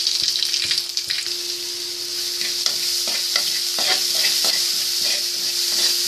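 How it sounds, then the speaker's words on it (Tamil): Mustard seeds, urad dal, ginger and garlic fry in hot oil with a loud, steady sizzle. Scattered popping crackles and stirring sounds run through it, with no talking. "இப்போ எண்ணெய் காஞ்சிருச்சு, இப்போ நான் கடுகு உளுத்தம்பருப்பு ஆட் பண்ணுறேன்."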